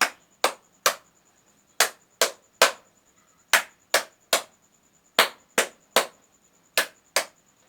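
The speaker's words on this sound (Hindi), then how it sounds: "तो सब बच्चों मिलकर ताली बजाना है" Children clap sharply in a steady rhythm along with a Hindi vowel rhyme, about fifteen crisp, close claps with short pauses in between and no talking.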